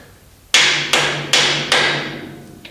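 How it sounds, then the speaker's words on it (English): Four firm mallet taps seat engine main bearing caps into place on a short block under restoration, evenly spaced about half a second apart, close and loud, each strike ringing briefly before the next. "tap them into place with a soft mallet"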